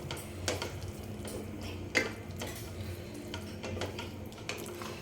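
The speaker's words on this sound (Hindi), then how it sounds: "अब इसको लगातार चलाते हुए पकाना है" A bottle gourd laddu mixture is stirred continuously in a pan as it thickens. Irregular scrapes and knocks of the spoon sit over a soft, steady sizzle, with no voices.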